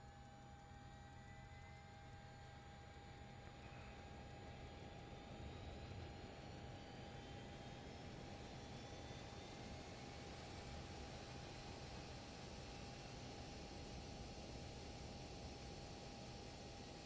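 Simulated Lear 35 business jet in a flight simulator game, number 2 engine starting: a steady, loud turbine whine and rushing roar holds throughout, with a thin high tone rising gradually over a constant broadband hiss.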